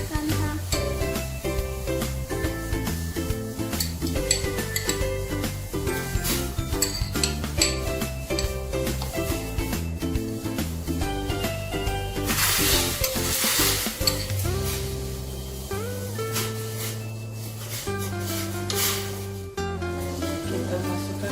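Tofu is added to a hot pan and stirred as it fries, a continuous loud sizzle with repeated scraping and clinking of the utensil against the pan, while music plays throughout in the background.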